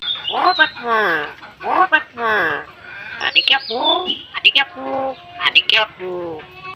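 A pet bird chatters in a squawky, speech-like voice, imitating talking in short bursts with bright whistly calls mixed in, close by.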